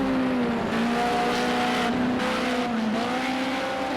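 Group A race car engine in Project Cars 2 at Fuji circuit, a loud continuous high-revving whine that shifts pitch with gear changes and throttle, with a faint tire squeal running underneath.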